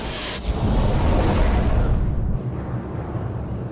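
A torpedo strikes a ship and explodes with a deep, loud rumbling boom that swells and rolls on for a couple of seconds before cutting away to a quieter fading rumble.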